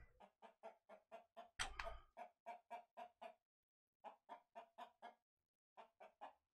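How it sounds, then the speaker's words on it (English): A chicken in the survival video game Humanity clucks in quick rhythmic bursts, a steady run of short clucks, a pause, then more, close and clear over silence. "I hear a chicken."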